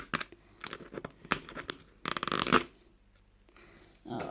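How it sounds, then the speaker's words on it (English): The zip on the packaging of a Zuru Smashers Dino Ice Age Surprise egg is pulled open. It makes several quick, crisp ripping and rustling bursts in separate spurts, close and fairly quiet, with no talk. "I hate these zips because they never want to work."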